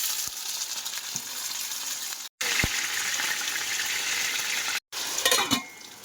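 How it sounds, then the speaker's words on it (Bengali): Potatoes frying in hot oil, a steady loud sizzle with brief stirring scrapes and two short cut-outs in the sound. "এখন এই আলুগুলো ভাজবো।"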